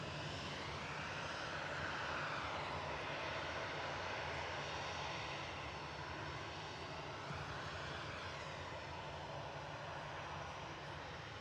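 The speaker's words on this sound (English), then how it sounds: "Ryanair 8357 from Budapest just touching down" A Ryanair airliner arriving from Budapest touches down at Manchester Airport with a continuous broad engine roar, steady and fairly distant with slowly shifting tones and no clear speech.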